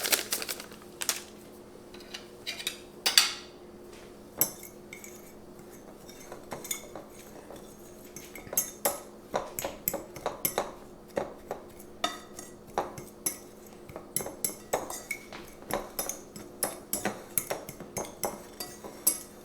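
Utensil scraping and clinking in a mixing bowl as almond flour is stirred together with a packet of butterscotch Keto Chow for cookie dough, a steady run of close, sharp taps and scrapes with no talking.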